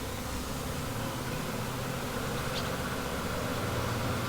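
A honeybee swarm being rehomed into a hive: a dense, continuous, loud buzzing hum, steady throughout with no pauses or talk.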